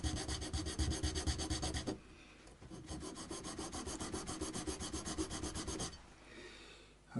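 Coarse 80 or 60 grit sandpaper rubs rhythmically on a guitar nut for a Harley Benton SC Custom, a close, quiet scratching in quick back-and-forth strokes with a short pause midway.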